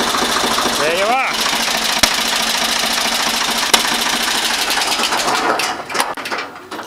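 A car engine runs steadily during alternator testing, a loud close rumble with a short rising throttle blip near the start, sharp clicks and a voice talking over it.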